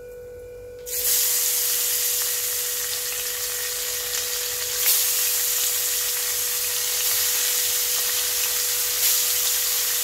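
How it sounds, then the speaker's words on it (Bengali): Tangra fish added to hot salted oil in a pan bursts into a steady, bright frying hiss after a quieter opening second, continuing evenly over a faint constant hum. "এবার আমি মাছগুলোকে ভেজে নিচ্ছি।"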